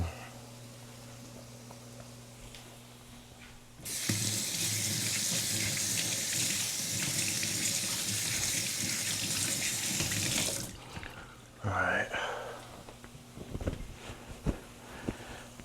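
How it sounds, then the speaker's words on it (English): Tap water runs steadily into a sink for about seven seconds while hands are rinsed in a kitchen during jackfruit pulled-pork prep, then shuts off, followed by a few clinks and handling sounds. "rinse my hands off real quick"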